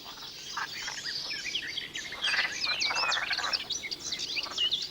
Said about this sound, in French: Seules quelques grenouilles vertes viennent en effet de sortir d'hibernation et cherchent à profiter paresseusement de la chaleur du soleil.